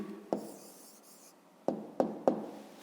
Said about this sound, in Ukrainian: Записуємо тоді відповідь.